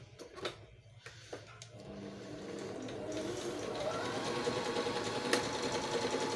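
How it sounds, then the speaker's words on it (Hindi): A Singer 5200 sewing machine starts after a few light clicks and settles into steady, fast stitching. The motor whir builds and stays continuous and close. "वापस मैं सिलाई पे जा रहा हूँ।"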